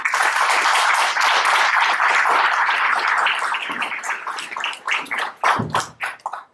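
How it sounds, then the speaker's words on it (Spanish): An audience at a university talk claps steadily and loudly in dense, sustained applause that thins into scattered fading claps at the end. "Un aplauso para Marco."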